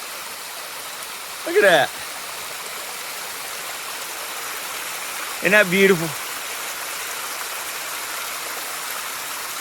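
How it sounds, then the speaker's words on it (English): A small waterfall and stream crossing a hiking trail on the Appalachian Trail makes a steady, close rushing wash of water, with a voice speaking briefly over it twice. "This waterfall, this stream that crosses the trail."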